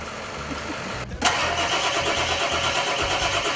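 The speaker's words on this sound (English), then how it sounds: "This right here is the little engine that won't. It's actually a big engine." A big engine cranks briefly and catches about a second in, then settles into a loud, steady idle, with faint voices in the background.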